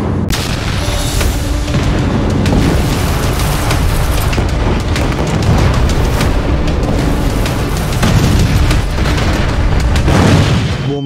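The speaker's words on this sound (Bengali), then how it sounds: "ফিলিস্তিনের গাজায় বৃষ্টির মতো বোমা বিস্ফোরণ হচ্ছে।" Bomb blasts hit Gaza in a dense, loud barrage, heavy booms and rumbling bursts overlapping almost continuously with no pause and no voices.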